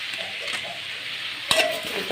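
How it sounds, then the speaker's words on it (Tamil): Onions and tomatoes sautéing with turmeric in a pan for ivy gourd stir-fry, a continuous close hiss of frying broken by one brief utensil scrape, no talking. "தக்காளி வெங்காயம் நல்லா வதங்கட்டும்."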